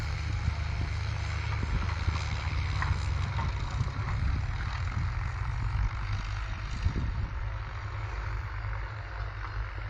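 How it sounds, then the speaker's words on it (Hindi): Tractors race across a field, crushing standing crops, a heavy, continuous low diesel engine rumble that holds steady and loud with some rattling and no talk. "ये देखिए, एक रेस जैसा कंपटीशन चल रहा है कि कौन सा ट्रैक्टर फसलों को नष्ट करते हुए जल्दी पहले उस पार पहुंचेगा खेत के।"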